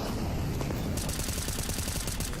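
Rapid automatic rifle spray in a Counter-Strike: Global Offensive match, a dense stream of sharp shots that grows louder and busier partway through, close and continuous over game ambience.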